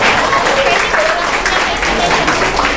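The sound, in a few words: audience applause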